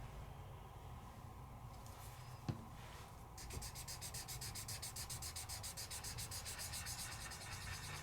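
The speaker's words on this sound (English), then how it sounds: "And then we take our Gamsol and we'll smooth them out." Soft, steady rubbing as metallic colored pencil on dark paper is smoothed out with Gamsol, a faint close scrubbing texture that grows more rhythmic toward the end.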